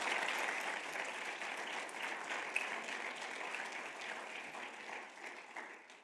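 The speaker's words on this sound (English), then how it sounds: "Give them a round of applause." Audience at a student chemistry convention applauding, steady moderately loud clapping from a large room that tapers slightly toward the end.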